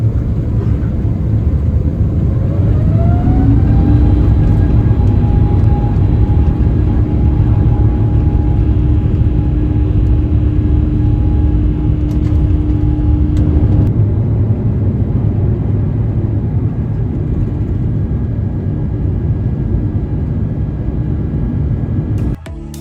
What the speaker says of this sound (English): A short taxi later, we then took off en route to Australia